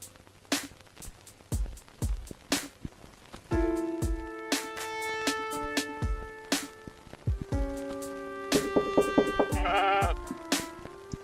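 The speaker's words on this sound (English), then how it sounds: "Sounds like a sheep." Sheep bleat in the video game Cat Detective Albert Wilde, with several wavering bleats scattered among sharp, repeated clicking knocks. The sounds are moderately loud and there is no speech.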